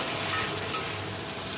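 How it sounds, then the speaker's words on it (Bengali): Banana stem fries in oil tempered with nigella seeds and dried red chilli, a soft, even sizzle heard briefly and close by with no voices. "কালো জিরে শুকনো লঙ্কা ফোড়ন দিয়ে থোড় ভাজা হচ্ছে"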